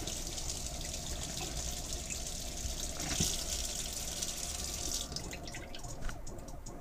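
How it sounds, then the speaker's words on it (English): A caravan's internal water pump hums faintly and steadily inside a Bailey Unicorn Segovia, under a quiet trickle and drip of water, with a sharp little knock partway through and the hum easing near the end. "you should just be able to hear the internal water pump kick in"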